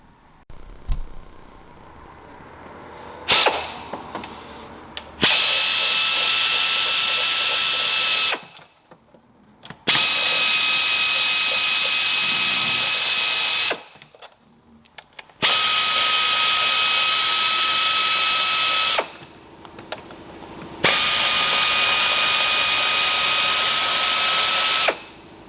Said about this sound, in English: There is 4 bolts that will take a 10mm socket to remove them.